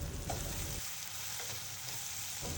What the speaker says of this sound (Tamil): தக்காளி, புளி, பெருங்காயம் இதெல்லாம் சேர்த்து நல்லா வதக்கி விடுங்க